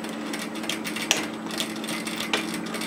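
A sewing machine runs steadily while stitching backwards and forwards across the edge of a robe band, its needle chattering in a continuous close mechanical whir.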